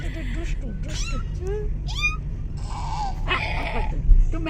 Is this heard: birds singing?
no